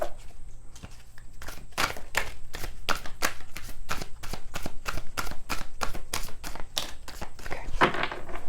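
Tarot cards being shuffled on a table in a steady run of crisp riffling flicks, close and fairly quiet, with no talking.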